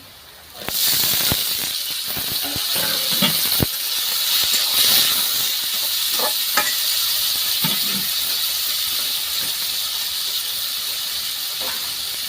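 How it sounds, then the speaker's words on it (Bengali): Oil hisses steadily in a hot pan while frying for a pea (matar) dish, a loud, continuous broadband sizzle that starts abruptly and holds with a few faint clicks and knocks. "তেলটা ফ্রাই করে নিচ্ছি আমি এটা ফ্রাই করে দিচ্ছি"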